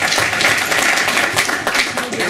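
A crowd at a comedy show claps and cheers for Joe Franklin, a dense, steady wash of many hands that stays loud and even from start to finish.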